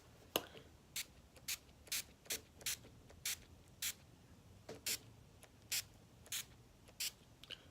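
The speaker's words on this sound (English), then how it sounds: "I'm just gonna lightly spray my face so that the highlight could be a little more poppin'" A series of short, soft sprays of makeup setting spray misted onto a face from far away, about a dozen quick bursts at a steady rhythm, close and quiet.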